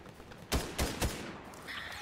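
Three quick gunshot bursts from the battle royale video game Fortnite, fairly loud over a steady background hum of game ambience, with a faint tonal sound afterward.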